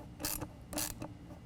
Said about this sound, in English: We'll slide that on top and tighten that one down. Use an 8mm nut driver on this.